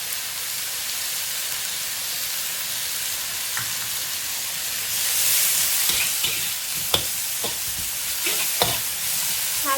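Sauerkraut stir-fries in a hot pan with Sichuan peppercorns for a sauerkraut and potato soup, a steady close sizzle that swells midway, with occasional scrapes and clicks of a utensil stirring.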